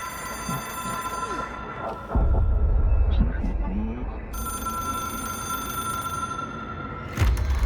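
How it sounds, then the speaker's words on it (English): An old-style telephone bell rings in the video game Control, loud and insistent with steady tonal ringing, over a low rumbling ambience with sudden heavy bursts, while a voice talks over it. "It is a phone."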